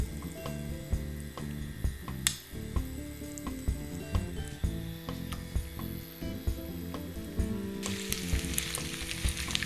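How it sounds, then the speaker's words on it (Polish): Chopped chicken patties sizzle steadily in a hot pan over medium heat with a constant crackling hiss, while a tonal musical backdrop plays underneath. "Kotlety, czyli placki, smażymy na średnim ogniu."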